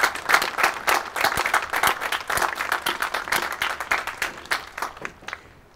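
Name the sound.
audience applause for Coast Guard Auxiliary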